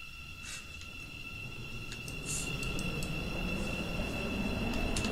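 A train in a railway video game rolls along with a steady low rumble, while a continuous tonal hum and brief squeals or chimes sit above it; no talk.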